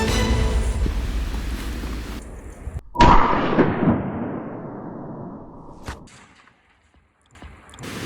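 A single sharp hunting rifle shot fired at a mouflon on a French hunt cracks out loud and close, trailing off in a long rolling echo, with rustling and wind noise before it.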